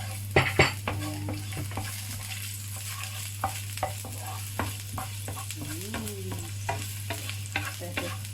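Garlic and ginger sizzle in hot oil for sweet spicy Asian chicken wings, with a steady frying hiss, sharp clinks of a utensil stirring against the pan, and a constant low hum underneath.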